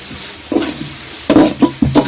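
Masala with garlic paste and tomato for a Kerala-style chicken biryani is stirred in a frying pan, giving a few scraping, sizzling strokes in short bursts, close and fairly loud.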